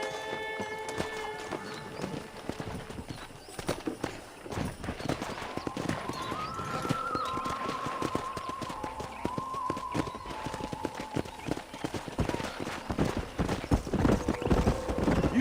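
Hooves of wild horses thunder across open country in the Red Dead Redemption video game, a dense, continuous clip-clop running the whole stretch, with sustained tonal sounds layered over the middle.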